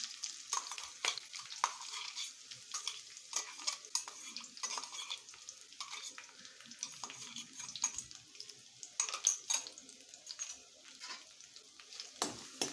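Ingredients sauté in a pan for dal rice, with soft intermittent stirring scrapes and light utensil clicks over a faint background sizzle, quiet and close.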